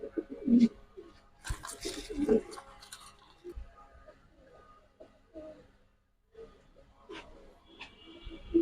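High flyer pigeons in a loft give soft, intermittent coos over a quiet background, with a few short rustles and flutters between them.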